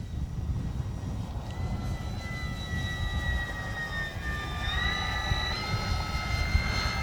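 An E-flite Beechcraft D-18 RC model airplane flies overhead on a windy day, its engine drone rising and shifting in pitch as it passes, steady over rumbling wind noise.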